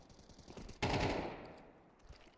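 An A1-S rifle sprays gunfire in Counter-Strike on the Anubis map, a sudden loud burst of rapid shots that fades into ringing echo, with no talk.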